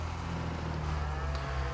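Cows mooing in a farm shed in the video game Farming Simulator 22, a low drawn-out moo heard close over a steady engine-like hum.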